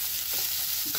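Onions fry in a pan until lightly reddened, making a brief, continuous close sizzle with a soft hiss and no voices.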